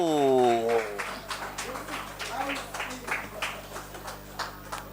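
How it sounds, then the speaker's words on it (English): A room gives a round of applause for a visiting US consular delegation during a courtesy visit, scattered claps building after a brief tonal sweep, moderately faint. "You deserve a round of applause."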